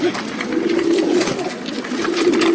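Pigeons at a pigeon farm in Feni Sadar, including a pair of red birds, cooing close by in low throaty rolling bursts, two distinct phrases with a short gap between.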